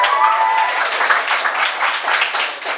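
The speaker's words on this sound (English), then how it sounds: "but you are right to applaud" An audience at a live talk breaks into loud, sustained applause, dense clapping filling the room without a break, close and full throughout.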